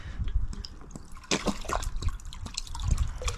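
Liquid pouring and glugging out of an old ketchup bottle, with irregular splashes and drips that run close and fairly loud for a few seconds.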